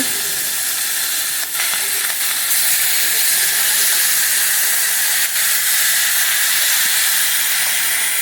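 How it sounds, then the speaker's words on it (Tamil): A loud, steady hiss and bubbling sizzle from a pot of thick Tamil tamarind kuzhambu with manathakkali berries boiling vigorously, close up, with a few faint clicks and no talking. "புளி ஊற்றி நல்லா குழம்பு நல்லா கெட்டியாகிற வரைக்கும் நல்லா கொதிக்க வச்சுக்கலாங்க."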